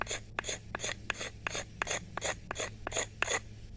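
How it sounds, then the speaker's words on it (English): A hand scraper shaves fine curls from an elm stick for an atlatl, with about ten crisp, evenly spaced rasping strokes in a steady rhythm, close and clear with no talk. "you need something like this that will scrape that fine shavings off"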